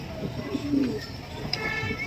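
A brief coo from a rooftop pigeon stands out against steady outdoor background noise, with a soft flutter near the end.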